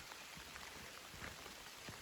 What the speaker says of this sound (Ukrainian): Отак нас раптово застав дощ.